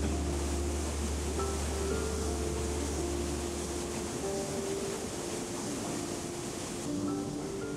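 Stream water rushing through the Höllental gorge beneath the Zugspitze in Bavaria, a constant broadband roar that stays steady and close with no talk over it.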